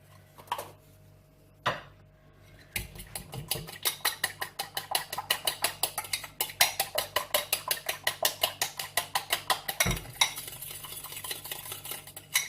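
Fish tempura batter with a little baking powder being stirred in a bowl, a fast run of steady, rhythmic whisking clicks after a few isolated knocks, close and fairly loud with no talking.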